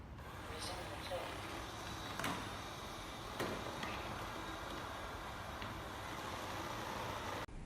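An ECOVACS DEEBOT 900 robot vacuum runs about two feet away, giving a steady, fairly quiet whirring hiss with a few faint clicks and knocks along the way.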